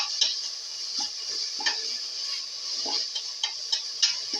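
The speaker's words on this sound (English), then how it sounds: "chop the fenugreek leaf" A knife chops fenugreek leaves for a lentil tomato pilaf, giving a run of light, crisp taps at an uneven pace, close and fairly quiet, with no voices.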